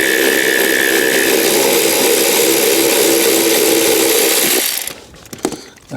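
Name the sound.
undoing Torx screws with a tool and extension on a Fiat 500 console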